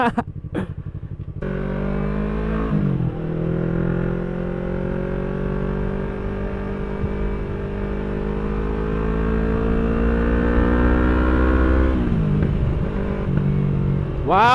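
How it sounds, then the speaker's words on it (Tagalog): A 2018 Yamaha R3 V1 motorcycle with an aftermarket exhaust pipe runs close by with a steady, throaty engine drone that rises and falls, with sharp crackling pops at the start and end. "Wow, yung backfire niya guys, kakaiba."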